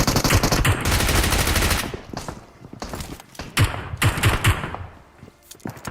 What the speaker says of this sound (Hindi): भाई साहब गोलियों की आवाज बंद ही नहीं हो रही, एक तो बॉट ऊपर से बंदे।